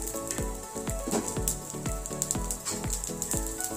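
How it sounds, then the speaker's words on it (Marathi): Garlic and cumin roast with chillies in a hot pan, giving a steady crackling sizzle broken by regular scraping strokes of a spatula, close and alone. "लसूण आणि जिरे सुद्धा छान मिरच्यामध्ये छान भाजून घ्यायचे आहे"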